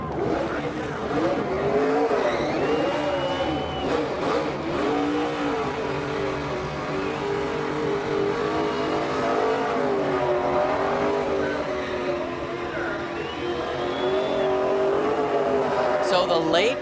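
A NASCAR Nationwide race car spins victory donuts at Iowa after winning the 2014 Dupont Pioneer 250, its engine roaring steadily with revving surges and tire squeal throughout, while a commentator talks over it.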